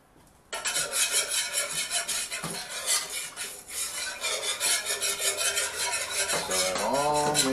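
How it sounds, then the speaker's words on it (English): A whisk scrapes briskly around a bowl, working one tablespoon of flour into a chicken sauté mixture, a continuous close rasping stir that runs steadily throughout with no talk. "Now we're going to whisk this up."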